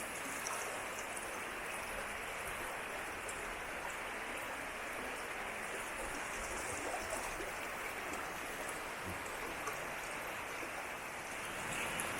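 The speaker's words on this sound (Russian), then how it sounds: "Сверху вода капает." Water dripping and splashing from above in the Karadakh gorge in Dagestan, heard as a dense steady wash of drops and trickling, constant and fairly faint, with no voices.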